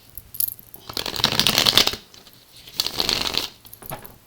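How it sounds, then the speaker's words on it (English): Tarot cards being shuffled indoors at night, close up: two bursts of riffling and sliding cards, each about a second long, separated by a brief pause, with no talk. "I'm just doing a few shuffles here."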